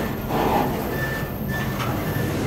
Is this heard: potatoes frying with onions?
no